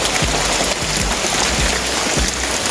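Heavy rain pours down during rubber tree tapping, a loud, dense, unbroken roar, with faint low thumps underneath.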